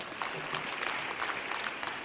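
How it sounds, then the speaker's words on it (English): A crowd at a closing conference session in Australia claps, a dense, even patter of many hands heard close and steady for a couple of seconds without a break. "that's a clap too"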